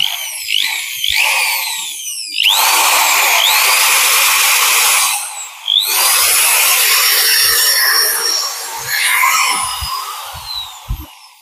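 A Dongcheng DJZ02-13 impact drill runs loud and close, with a high whine that spins up and drops in pitch across several bursts and short pauses between them.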